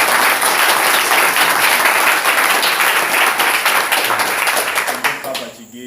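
A church congregation claps together in loud, sustained applause, with scattered sharp claps standing out, before the clapping stops abruptly near the end.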